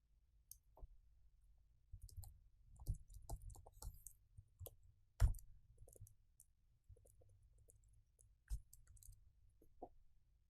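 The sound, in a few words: typing code on a computer keyboard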